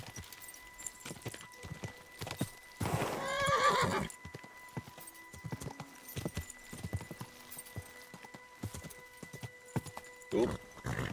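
A horse in the medieval game Kingdom Come: Deliverance 2 sets off a loud whinny, then steady clip-clop hoofbeats that run throughout, with faint game music tones underneath and a few brief sharper hits.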